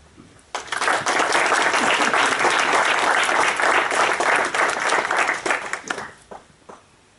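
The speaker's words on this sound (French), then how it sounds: "je vous propose d'ailleurs d'applaudir ou de vous applaudir vous-même" A crowd at a mayor's New Year address bursts into sustained applause, steady dense clapping for several seconds before tapering off.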